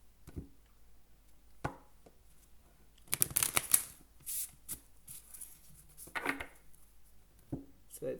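A deck of tarot cards being shuffled in repeated bursts of riffling and flicking, close and moderately loud, with short pauses between the shuffles and no one speaking.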